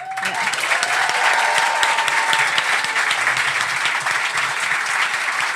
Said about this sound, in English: Can we give a big round of applause for our talent buyers?